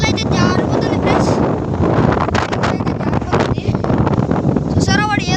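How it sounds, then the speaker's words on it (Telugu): Strong wind sweeps across a hilltop and buffets the microphone in a steady, rushing roar, while a voice talks over it throughout. "కొండ మీద అంతా గాలి పెడుతుంది ఫ్రెండ్స్."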